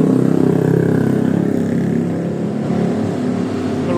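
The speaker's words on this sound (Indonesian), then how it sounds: "terkadang motor ini brebet, terkadang normal" Honda Beat scooter engine revving close by with a faulty, intermittently sputtering idle, a steady rough drone that wavers unevenly.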